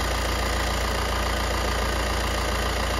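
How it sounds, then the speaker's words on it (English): A MAN / VW Crafter van engine idles steadily during an EGR valve test, with the low-pressure EGR valve stuck. The sound is a close, continuous, even engine drone with a fine regular pulse and no change in tone, and no one speaks. "I can even hear there's no tone change in the engine, so the low pressure EGR valve is stuck."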